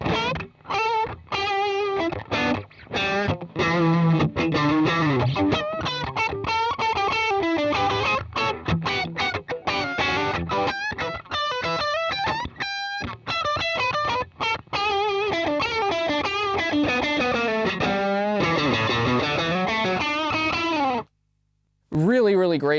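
An electric guitar through a Wampler Dual Fusion overdrive pedal plays bluesy licks high on the neck, bends and quick runs with a gritty, distorted tone, ending in brief silence.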